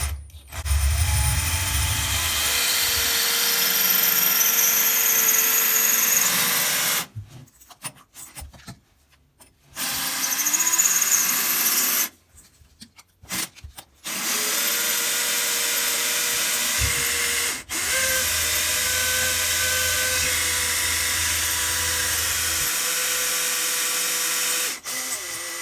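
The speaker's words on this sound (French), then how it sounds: "Là, j'ai percé le carrelage." A drill bores through floor tile while fitting a toilet, a loud grinding whine running in long stretches broken by short pauses and sharp dropouts, with no talking.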